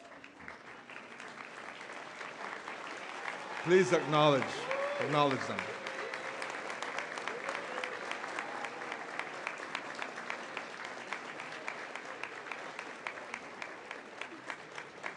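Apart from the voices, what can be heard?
rousing round of applause at a ceremony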